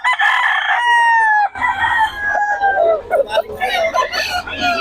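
A rooster crows loudly and close by, its long call filling the first second and a half, followed by clucking fowl and chatter in a busy market setting.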